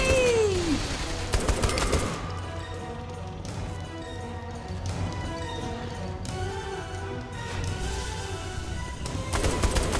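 Rapid gunfire in the video game Saints Row 3 during a shooting contest, with dense bursts of shots over game music and effects. A descending whistle-like tone comes at the very start.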